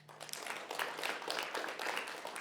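An audience at a SEVENTEENx Perth talk claps together in a spread of light, rapid applause that runs steadily for a couple of seconds at moderate volume.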